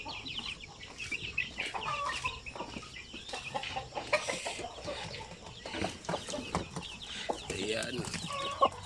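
Hen and chicks clucking and peeping on a small farm, busy overlapping calls with occasional louder cries, fairly close and continuous, with some faint voices in the background.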